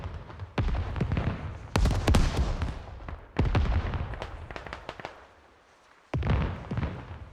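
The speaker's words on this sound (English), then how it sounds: "we can see the good rocket barrage coming in as well" A rocket barrage lands in a war video game, four heavy booming explosions arriving one after another, each with crackling debris and a rumbling decay, loud and fairly close.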